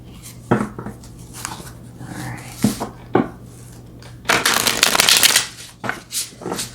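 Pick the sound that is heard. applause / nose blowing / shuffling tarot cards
shuffling tarot cards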